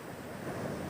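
Roaring sea waves on Baga beach in Goa give a steady, dense wash of surf noise mixed with wind buffeting. It runs continuously for about a second with no break.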